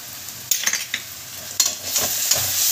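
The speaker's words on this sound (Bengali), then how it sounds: "সব মশলাটা একসঙ্গে কষিয়ে নেব।" Ground spices with ginger-garlic paste and softened onion are stirred and fried in a pan, with loud close scraping strokes of the spoon over a continuous sizzle.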